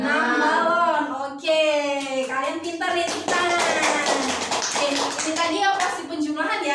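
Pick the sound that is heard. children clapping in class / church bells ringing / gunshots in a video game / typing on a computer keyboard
children clapping in class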